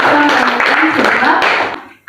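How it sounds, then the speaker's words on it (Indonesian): Classroom applause for a student: a dense, steady wash of clapping from many hands, loud and continuous for about two seconds before cutting off briefly. "Jadi kasih aplaus dulu untuk Susinta."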